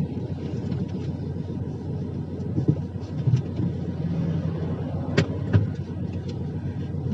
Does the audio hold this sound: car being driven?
yes